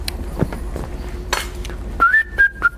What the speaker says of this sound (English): Oh, maybe I shouldn't whistle.